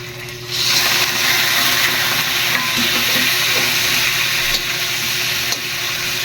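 Chicken gizzards hitting a hot frying pan for adobo, a loud, steady hissing sizzle that swells as they go in and carries on evenly, close by with no talking.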